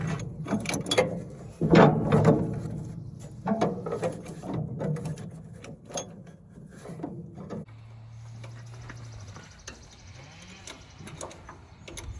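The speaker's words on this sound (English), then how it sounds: "not all bottle jacks are meant to pump on their side" Bottle jack pumped while lying on its side to push a seized plunger on a Massey 12 baler, a series of close mechanical clicks, creaks and metal knocks, then a quieter stretch with a low hum and light ratcheting.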